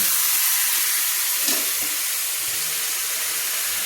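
Marinated yogurt chicken hitting a hot pan for a Bengali doi chicken, letting out a loud, continuous sizzle and hiss close up, with faint stirring knocks underneath.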